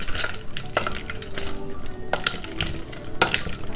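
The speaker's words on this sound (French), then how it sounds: "je me suis muni de ma petite cuillère en bois et je commence à remuer" A wooden spoon stirs chocolate and butter melting together in a pan over low heat, giving soft scraping and occasional light clinks against the pan, steady and close with faint background hiss.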